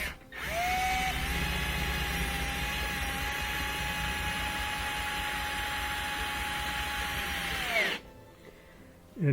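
A power drill drives a mounting screw while a Bosch dishwasher is installed under a counter, a steady high whine running about seven seconds before winding down and stopping, followed by a brief clunk.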